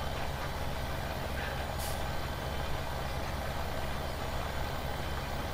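A truck engine in Farming Simulator 17 drones steadily and evenly at a low rumble, with a faint brief hiss partway through and no speech.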